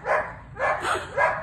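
Dogs bark nearby in three quick, sharp bursts over about a second and a half, fairly loud against a quiet background.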